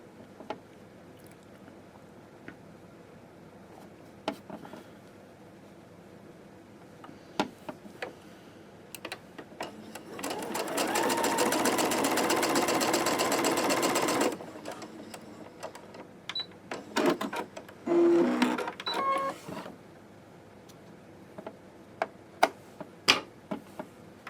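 A sewing machine stitches quilt pieces together in one steady burst of rapid mechanical whirring lasting a few seconds, with scattered clicks and handling taps of fabric before and after.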